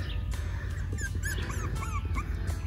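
High, thin whimpers and yips from a litter of eight Mini Olde English Bulldog puppies repeat in short wavering cries over a steady background hum, fairly close.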